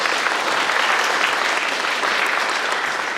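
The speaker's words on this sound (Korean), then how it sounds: "환영의 박수 부탁드립니다." Dense, steady applause from a seated audience at a town hall meeting with citizens, welcoming the city mayor, filling the space evenly from start to finish without a break.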